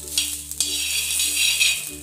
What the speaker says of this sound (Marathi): तुरीचे दाणे थोडेसे भाजून घेते